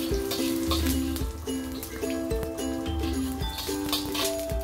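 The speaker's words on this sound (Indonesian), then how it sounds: "Selanjutnya aku panaskan minyak lagi, kemudian aku tumis bawang putih." Garlic sautéing in hot oil crackles and sizzles in busy bursts, close and fairly loud, with clattering utensil sounds mixed in.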